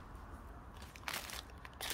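Scissors make a few short, crisp snips close up while working on a craft piece made from ocean debris, with quiet pauses between cuts and no talking.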